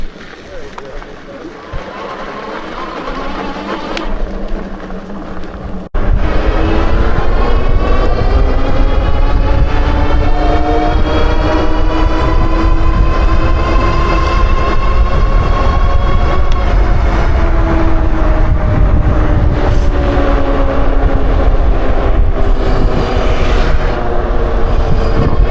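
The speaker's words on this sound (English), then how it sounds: "Trying to do a top speed run here on this thing. The wind though, oh man. Big headwind." Strong headwind roaring across the microphone during a top speed run on a fast e-bike, a loud continuous buffeting rush that starts abruptly and holds steady for about twenty seconds, with faint talk underneath.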